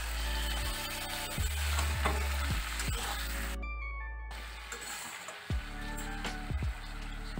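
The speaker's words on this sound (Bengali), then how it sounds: "একটু জল দিচ্ছি।" Vegetable chapor ghonto sizzles in a pan after water is added with ginger paste and green chili paste. A steady close hiss and bubble runs throughout, broken by a brief hush and by occasional clanks of a utensil.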